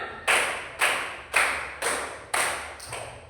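Schoolchildren clap together in a rhythmic classroom icebreaker, six sharp group claps at a steady pace, the last slightly softer, each trailing a brief room echo, close and unaccompanied by speech.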